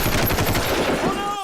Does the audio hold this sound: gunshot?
yes